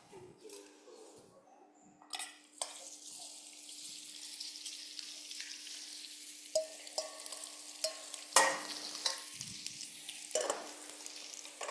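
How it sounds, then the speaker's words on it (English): Bones roasting in oil in a pan, a continuous sizzle broken by repeated scraping and stirring clatter. "I'm using some oil to roast the bones."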